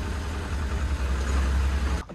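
A large tractor engine runs steadily in foggy conditions, a loud, continuous low rumble and drone heard close by with no talking, ending abruptly.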